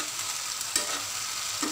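A large tomato drops into a pan of frying chilies, giving a steady sizzle with a couple of soft stirring clatters, close and moderately quiet.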